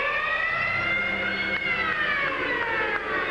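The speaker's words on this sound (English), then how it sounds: "So the siren sounds." A loud, sustained hockey arena siren blares at the end of the second period, Islanders at Bruins in the 1980 Stanley Cup quarterfinal, with a steady tone whose pitch slowly sinks, carrying on for several seconds over faint crowd noise.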